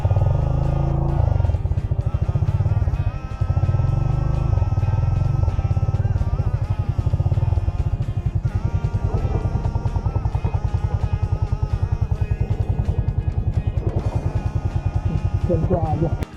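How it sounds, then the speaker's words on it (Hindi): A motorcycle engine idles and pulses steadily, loud and close, while the bike creeps down a steep, muddy slope in monsoon rain with its brakes held, and a rider talks over the engine. "पूरा ब्रेक दबाए तो भी बाइक नीचे जा रही है।"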